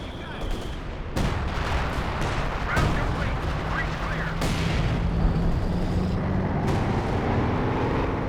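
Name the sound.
major artillery barrage in Company of Heroes 2 video game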